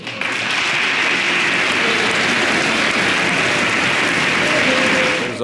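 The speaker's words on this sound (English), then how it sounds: "There's a loud cheer" A large audience at a State of the Union address breaks into loud, sustained applause and cheering, a dense unbroken roar of clapping that holds steady for several seconds before fading.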